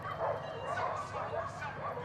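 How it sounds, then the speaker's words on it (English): Dogs barking and yipping outside a house in a Southeast Asian village at night, several overlapping barks from a short distance mixed with background voices, continuous and moderately loud. "the sound of dogs barking outside the house"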